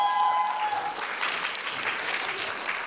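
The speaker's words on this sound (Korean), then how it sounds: "여러분 큰 박수로 맞이하시죠" An audience at a kids' audition show claps to welcome the next young contestant. The applause is brisk and continuous, and a fading musical tone from the previous act trails away under the start.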